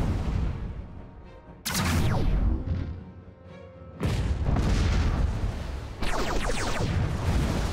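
Missiles launch and explode in a space battle in Master of Orion, three loud surging blasts, each followed by a decaying roar.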